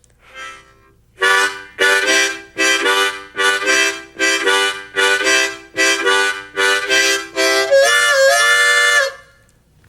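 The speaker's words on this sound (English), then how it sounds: "I'm going to speed that up a little bit." Harmonica chugging the basic train rhythm at a brisk tempo: about ten even, breathy chord pulses in steady succession, ending in one longer held chord. Close and loud, with no talking.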